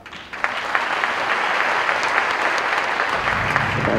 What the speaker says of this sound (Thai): ขอเสียงปรบมือให้กับอินปันครับ